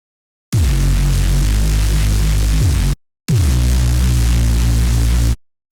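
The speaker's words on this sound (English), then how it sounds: "so I started with this Reese" A Reese bass synthesizer patch plays two long, loud notes, each thick, buzzing and slowly throbbing, with a short gap of silence between them.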